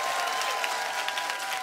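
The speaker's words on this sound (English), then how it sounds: "Give her a round of applause!" A studio audience at a school quiz show claps in a brief, steady burst of moderately faint applause with a faint tonal hum underneath.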